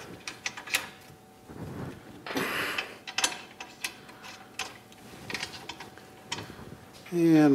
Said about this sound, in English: Just going to go ahead and get those nuts cinched up to the on the ball joint